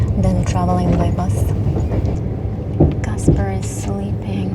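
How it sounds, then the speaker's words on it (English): Passenger train rolling along rails in Kazakhstan, a steady low rumble with faint clickety-clack from inside the carriage, while people talk over it throughout. "It's way more comfortable to travel by train than traveling by bus."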